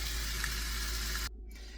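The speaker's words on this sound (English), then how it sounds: "I'm going to let that cook down, let the onions and the garlic" Onions and garlic sautéing in a pan, a close, steady broadband sizzle that cuts off abruptly after about a second, leaving a quieter background.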